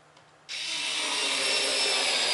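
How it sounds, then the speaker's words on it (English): After a brief quiet moment, a Xiaomi Mi electric screwdriver starts abruptly and whirs steadily into wood, a loud, close, continuous high-pitched grind. "It drilled into the wood."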